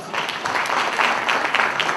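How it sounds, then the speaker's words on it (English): Steady audience applause rolls on for two seconds at a gathering, a dense wash of clapping with a few louder hand claps standing out. "Give yourselves a round of applause."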